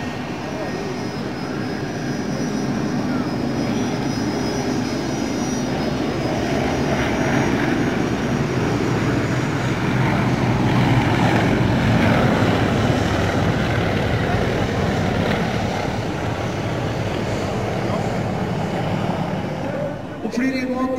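Yak-50 aerobatic propeller planes of a display team fly at the Flesland airshow in 2005, producing a loud, continuous engine drone that swells and fades slightly as they pass, with steady outdoor crowd and wind noise.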